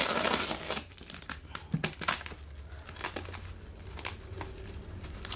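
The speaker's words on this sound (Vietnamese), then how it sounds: "Bóc siêu cho các bác nhé." Plastic packaging around a low-profile scope mount for a Condor air rifle crinkles and tears as it is unwrapped, a dense run of close crackling and rustling bursts over a steady low hum.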